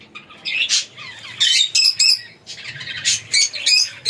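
Pet lovebirds and budgies squawk and chirp in a cage, where a breeding pair is set up with the female sitting on eggs in a nest box. Shrill calls come close and loud in repeated bursts with brief pauses between.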